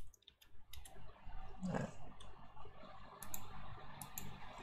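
Computer keyboard keys click and tap in short, scattered bursts, fairly quiet and close, during a CodeIgniter 4 coding session, with a brief spoken word in between.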